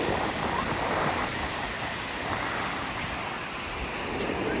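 Ocean waves roll onto a beach in a continuous broadband wash of surf, steady and fairly loud, with some wind buffeting the microphone and no voices.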